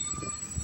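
A cargo train rolls through a small, quiet seaside station, a close, steady rumble of heavy wheels and rail noise holding level for a brief moment with a low thud near the end.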